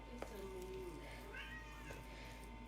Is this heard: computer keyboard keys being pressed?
no